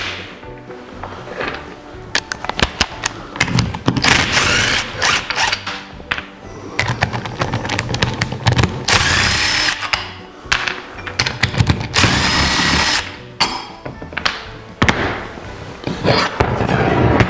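Hand tools and ratchet work on the power steering pump bracket of a 1955 Packard Patrician, as three long 9/16 bolts are removed: loud, close, dense clatter of rapid ratcheting, metal clinks and scraping bursts with brief pauses, no talk.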